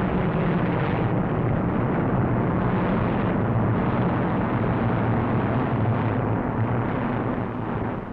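Roar of RAF fighter aircraft engines in wartime formation flight, a loud, steady, dense drone filling the whole stretch with no letup and no voices.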